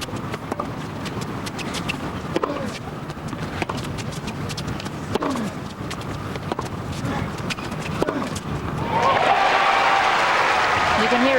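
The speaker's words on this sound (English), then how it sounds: "You can hear it building now with every single point, and the crowds here have been fantastic." Tennis crowd at the Australian Open clapping under steady commentary talk, with scattered claps and murmurs swelling into broad, loud applause over the final seconds.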